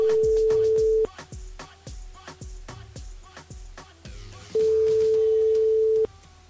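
A phone line rings out on an outgoing call from a French radio show to a listener. Two long steady tones frame a stretch of rhythmic percussive music beneath them.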